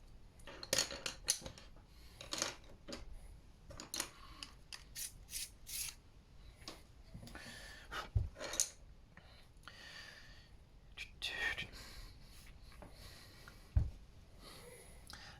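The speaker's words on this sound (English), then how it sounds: "I'm going to start by sketching it out with the lightest of the 3 colours, which is the orange." Graphic pencil scratching across paper while sketching lettering, in quick irregular strokes with short gaps, faint and close, with no talking.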